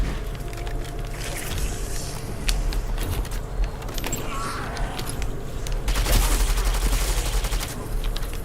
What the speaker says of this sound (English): this stupid gun keeps shooting